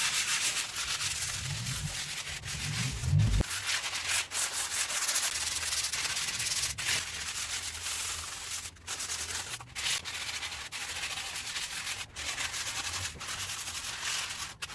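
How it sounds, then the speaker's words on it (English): Repeated rasping strokes of hand sanding the rough edges of an epoxy resin subwoofer box, steady back-and-forth scratching close by, with a short burst of low rumble early on. "going to do just a little bit of hand sanding on it to clean up some of these rough edges"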